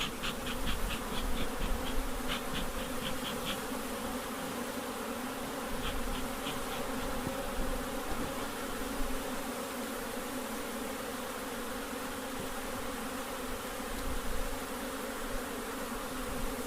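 Bees buzzing around an opened long hive during reassembly, a close, continuous droning hum with individual insects passing near, no voices.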